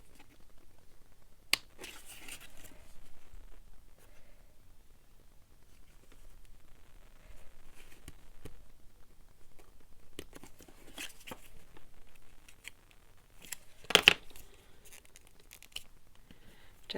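Scissors cutting into a paper file tab handle on a mini hinge journal, heard as a few sharp, isolated snips and rustles separated by long quiet stretches, close-up and fairly faint.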